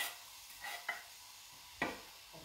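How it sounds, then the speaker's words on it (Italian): Quiet sizzling of onion frying in hot oil, with a few soft stirring scrapes and clatters in a pot. "Andiamo a mettere la nostra cipolla in pentola."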